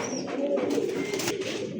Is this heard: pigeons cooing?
yes